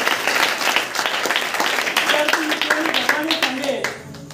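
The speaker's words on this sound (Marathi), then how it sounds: "त्यांच्यासाठी जरा जोरदार टाळ्या." An audience at an educational aid event in Thane applauds loudly and steadily for about four seconds, and the clapping tapers off at the end.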